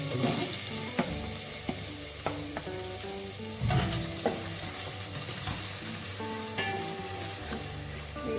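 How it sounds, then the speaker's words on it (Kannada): Steady sizzling of chopped onions frying in a pan, with intermittent scraping and clinking as they are stirred, close and continuous. "ಈರುಳ್ಳಿ ಸ್ವಲ್ಪ ಕೆಂಪಾಗುವವರೆಗೆ ಫ್ರೈ ಮಾಡ್ಕೊಳ್ಳೋಣ"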